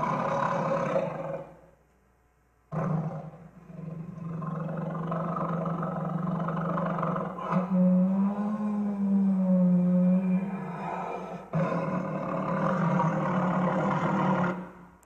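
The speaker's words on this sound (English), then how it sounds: "It is a tiger. In fact, it is a Bengal tiger" A Bengal tiger roars in long, deep, rumbling bursts, loud and close, with a brief silent gap between the first two roars.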